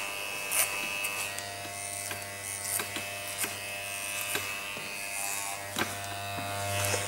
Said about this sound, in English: that's the clipper work done with the number 2